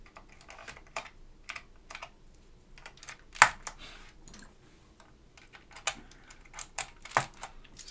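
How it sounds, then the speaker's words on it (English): Keycaps pressed onto a restored portable PCII mechanical keyboard with Alps SKCM White switches, giving a run of sharp plastic clicks and taps at irregular intervals, close and fairly loud, with no talk. "So I'm just putting on the last of the keycaps."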